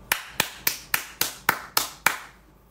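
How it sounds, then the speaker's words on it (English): Eight sharp, evenly spaced hand claps from a single person, close and crisp, each decaying quickly before the next, then stopping into quiet. "Clap for yourself."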